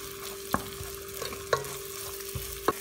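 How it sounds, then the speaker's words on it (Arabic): Onion fries in vegetable oil over a gas stove, a steady sizzle with a faint constant tone beneath and about three distinct utensil taps or stirring knocks spaced evenly through the short stretch; no talking. "بقلي البصلة على الغاز"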